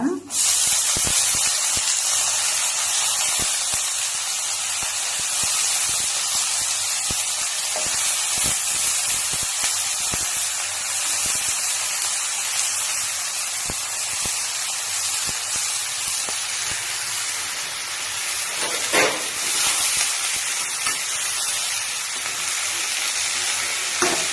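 Long beans (barbatti) frying in a hot pan give a loud, steady sizzle and hiss that runs unbroken throughout, with faint spoken words now and then beneath it.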